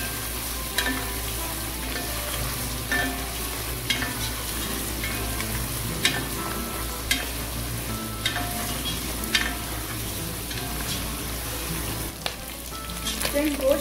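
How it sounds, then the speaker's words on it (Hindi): Mutton pieces frying with garlic-ginger paste in a pot for Eid biryani, a loud continuous sizzle with regular spoon scrapes and knocks against the metal throughout. "इसको अच्छी तरह से फ्राई करेंगे।"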